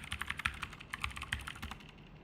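Keys on a computer keyboard clatter in a quick, uneven burst of close, crisp taps as a password is typed, with no voices.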